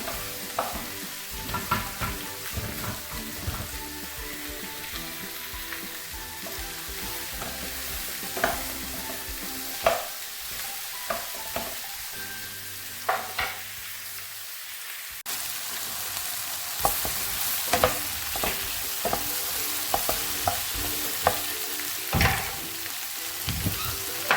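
Steak and vegetables stir-fried in a hot pan, a steady sizzle running throughout with frequent sharp scrapes and clatters of the utensil tossing the food, close and fairly loud.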